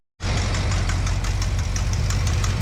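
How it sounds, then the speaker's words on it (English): A 1970 Plymouth Fury III's engine starts up and runs at a steady idle, with a loud, continuous low rumble and a faint ticking, heard alone without voices. "So I got to run the engine a bit to get it to cure."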